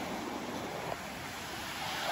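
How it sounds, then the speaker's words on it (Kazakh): Steady, roaring sea surf fills the background with a continuous broad wash, like waves churning at night, without distinct breaks. "Ақтеңіздің толқынын"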